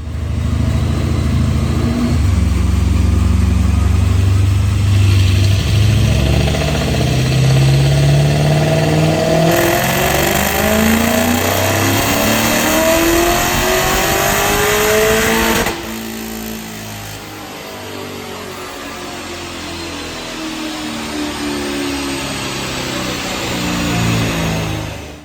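A 2005 Mustang fitted with a Paxton supercharger revs hard on a dyno, the engine note climbing loudly through quick gear pulls with rising whine, then dropping off and settling into a lower drone before a final swell.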